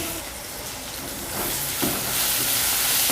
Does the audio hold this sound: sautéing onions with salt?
yes